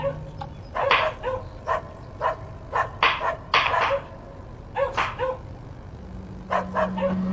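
Several dogs barking repeatedly in short bursts inside a house, moderately near, with gaps between volleys and a faint low hum near the end.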